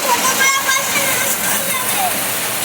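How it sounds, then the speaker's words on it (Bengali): A dense, steady hiss of heavy rain pours down close by onto a rooftop, with faint voices barely audible beneath it. "দেখো কিরকম বৃষ্টি পড়ছে,"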